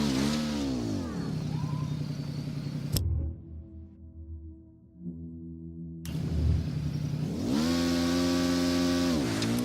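Motorcycle engine in Ghost Recon Wildlands revving up in rising and falling sweeps, cutting out briefly mid-clip before roaring back louder, with no talk.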